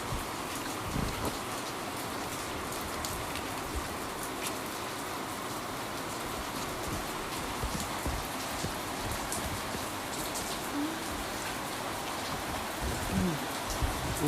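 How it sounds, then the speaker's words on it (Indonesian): Steady rain falling on a surface outdoors at a noodle stall, a dense, even patter of drops that continues throughout with a few louder individual hits. "Hujan."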